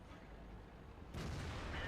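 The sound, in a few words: tank cannon firing in World of Tanks video game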